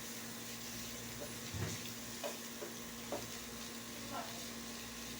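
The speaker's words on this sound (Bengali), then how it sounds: "এদিকে হচ্ছে মাছের পোনাগুলো আলু ভাজির মধ্যে দিয়ে দিলাম" Young snakehead fish fry in a pan with potato bhaji, giving a steady, soft hiss of oil. A few faint clicks and stirring touches sound now and then.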